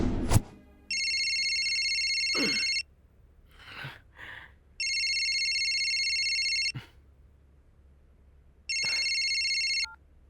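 A telephone rings early in the morning in three long electronic bursts separated by pauses, clear and close, with faint breathing and rustling in between and no talk.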